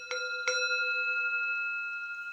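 Two soft strikes on a sound healing bowl called the flower of life start a bright, shimmering tone that rings on steadily in a quiet room.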